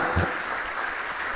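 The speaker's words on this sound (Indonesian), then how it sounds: "boleh beri tepuk tangan untuk Tuhan yang keras" A church congregation clapping together in steady, dense applause that fills the room at moderate loudness, with no voices standing out.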